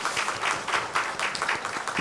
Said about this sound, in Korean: 우리 박수랑 함께 하나님을 찬양하도록 하겠습니다.